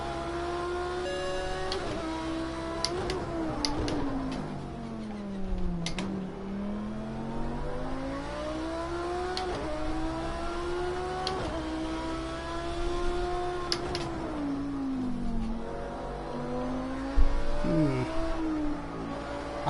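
An Audi R8 GT3 race car in a racing video game laps Ruapuna Park, its engine rising and falling in pitch through gear changes and corners, steady and alone for the whole stretch.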